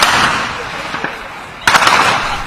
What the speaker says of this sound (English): Now the sound of gunfire can be heard as locals run for cover.